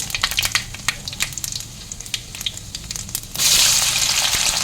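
Dry red chillies, bay leaves and panch phoron hit hot oil, crackling and popping in sharp bursts before swelling into a loud, steady sizzle near the pan.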